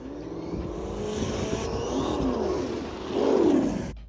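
A radio-controlled lowrider car runs at full throttle, its small electric motor whining with rising and falling pitch as it speeds up, surging loudest near the end, close by and with no talk.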